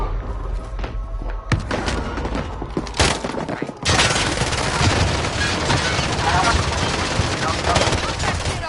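Rapid bursts of automatic gunfire in a Call of Duty Warzone duos match, starting as scattered close shots and then turning into a sustained, dense barrage of overlapping fire with thuds, while players talk over it.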